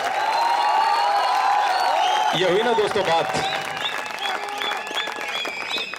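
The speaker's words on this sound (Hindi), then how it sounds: "एक बार जोरदार ताली वाली बजा के बताओ दिनेश सिंदल साहब को" A poetry recital crowd at a college festival in Jodhpur bursts into loud, sustained applause with cheering, while someone speaks over the clapping as it fades.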